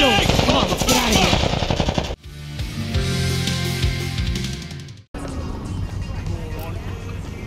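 Rapid video game gunfire in a The Last of Us–style firefight with Fireflies, loud bursts of automatic shots layered with music and effects, broken by two abrupt cuts, while a voice shouts nearby.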